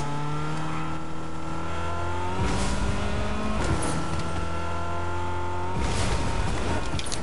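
A car driven in the Fortnite video game, a steady engine hum with rising pitch as it accelerates, plus short bumps and rattles, heard fairly close and alone.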